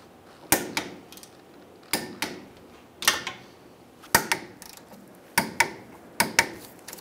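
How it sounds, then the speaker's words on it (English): A torque wrench clicks repeatedly while tightening rear brake caliper bracket bolts on a 2007-2015 Mazda CX-9. The sharp, close metallic clicks come in quick pairs and singles, about a dozen over several seconds, against quiet shop background. "we're gonna torque these caliper bracket bolts down to 60 foot-pounds"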